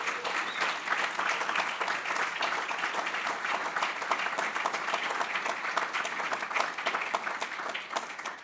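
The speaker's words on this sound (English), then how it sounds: "if we can give them a round of applause" Steady audience applause at an annual industry meeting, dense continuous clapping from a sizeable crowd holding an even level throughout before tapering slightly at the end.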